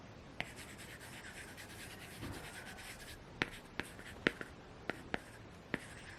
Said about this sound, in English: a screen protector that feels and sounds like you're writing on paper whenever you're writing on it